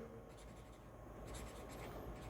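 Pen or marker strokes writing math notes on a board or page during a calculus lesson, a soft continuous scratching that runs steadily at low level throughout with no speech over it.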